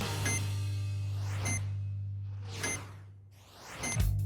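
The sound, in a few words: electronic beeps marking pendulum swings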